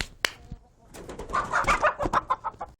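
A chicken clucks in a quick run of short, close calls, following a few sharp isolated knocks.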